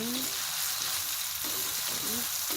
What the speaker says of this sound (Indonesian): Aduk-aduk terus supaya tidak gosong, tidak sengit hasilnya.